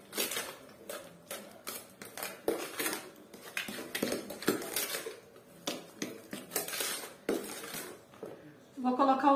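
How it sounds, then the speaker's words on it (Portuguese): A utensil mashes and stirs banana in a bowl for a simple banana cake. Rapid scraping and clinking against the dish repeats close up, and a voice comes in at the very end. "Aí eu vou misturar a banana."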